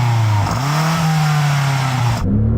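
A BMW M5 CS engine revs loudly and steadily close by, the pitch climbing and holding before dipping briefly and rising again.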